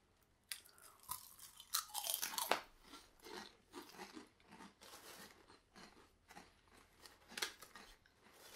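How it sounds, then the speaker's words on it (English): Crunchy Japanese candy shaped like french fries being bitten and chewed up close, with a steady run of crisp, dry crunches and snaps that keeps going with no talking. "It's a crunchy, cold french fry."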